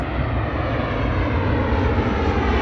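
Boeing 737 jet aircraft engine roar, a steady loud broadband rumble with no break, heard from close by.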